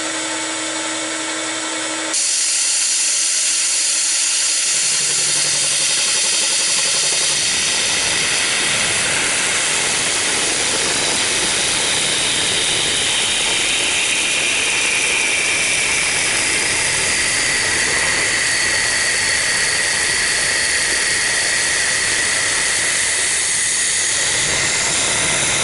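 A metal workpiece being cut by a flycutter at a 10 thou depth of cut, starting with a steady machine hum and settling into a continuous, loud hissing whine of the spinning cutter against metal.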